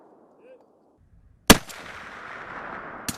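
An M107 long-range sniper rifle fires one loud, sharp shot that rolls into a long echoing tail across an open range. A second, fainter crack follows about a second and a half later.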